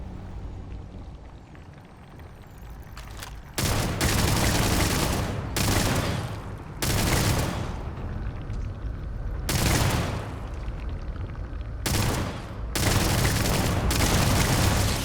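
Rapid bursts of weapon fire from the player's gun in the space game Starfield, four or five loud, dense volleys separated by brief pauses, with no talking over them.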